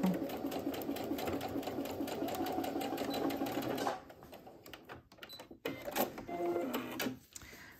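A sewing machine stitches a seam on a sports bag, humming close and steady for about four seconds, then giving way to fabric handling and a few shorter, uneven bursts.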